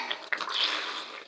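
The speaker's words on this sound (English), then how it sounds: "so I'm just going to pull the plug and rinse it with cold water" Water running into a basin while hats are washed, a short hissing splash with a brief gurgle near the start, fairly close and alone.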